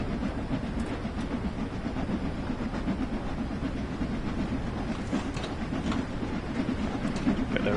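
Steam locomotive running in the Train Sim World 2 video game, a steady rumbling chug with rhythmic clickety-clack of wheels over rail joints, continuous and fairly close, with no voices.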